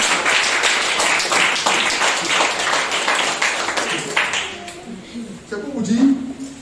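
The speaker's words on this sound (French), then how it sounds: "Applaudissez-moi." A church congregation applauds loudly with dense, sustained clapping for about five seconds, then the clapping fades as a voice comes in.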